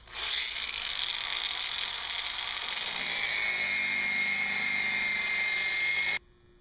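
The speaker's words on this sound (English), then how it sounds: "I'm going to start with the 200 surface polishing abrasive." A handheld polisher fitted with a 200 grit abrasive pad works a wet natural stone surface, a loud steady high whine with a grinding hiss that runs unbroken for about six seconds and then cuts off abruptly.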